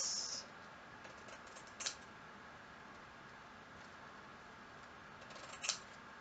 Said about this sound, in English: Cut our leaf down a little bit.